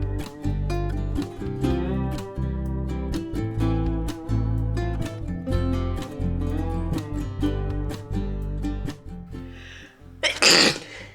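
A single sharp sneeze bursts out near the end, loud and close, following a long stretch of steady music with no talking.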